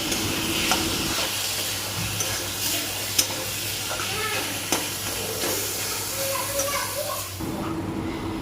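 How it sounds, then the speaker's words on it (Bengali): Spices and chopped tomato sauté in a pan, a moderate close sizzle with intermittent scraping stirs and occasional clinks, a low steady hum underneath until the sound thins near the end. "সমস্ত মশলা দেওয়া হয়ে গেল এবারে ভালোভাবে কষিয়ে নিচ্ছে"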